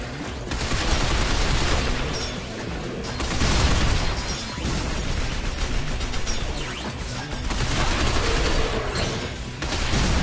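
Grenade blasts and heavy combat in the video game Binary Domain, booming explosions swelling and fading in waves over a dense bed of constant gunfire, loud and continuous throughout.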